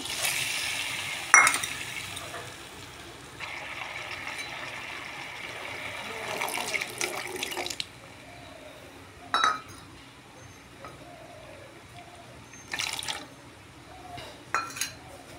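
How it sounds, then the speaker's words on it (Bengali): Water is poured into a pan of sautéed potatoes for an aloo paneer dish. A rushing pour and sizzle lasts several seconds, framed by sharp metallic clinks of utensils against the pan. "আলুটা কষানোর পর জল দিয়ে দেব।"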